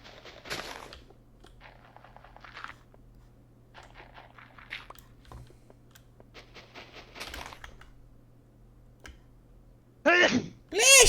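A single sharp sneeze bursts out near the end amid faint clicking and tapping from keyboard and mouse in a quiet room.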